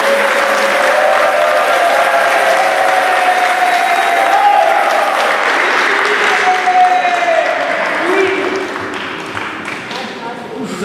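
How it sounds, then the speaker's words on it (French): Guests at a church wedding applaud the couple, loud sustained clapping filling the room for several seconds before easing off slightly, with crowd voices and faint tones beneath. "Applaudissez pour eux."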